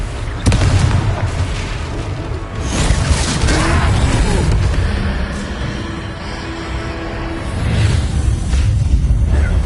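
In the video game Hogwarts Legacy, a Confringo spell explodes during a troll fight, a sharp booming burst followed by rumbling crackle and debris-like clatter that carries on loudly through the rest of the moment.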